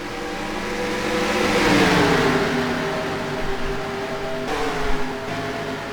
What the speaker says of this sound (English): the green flag is out, and we are racing here at Daytona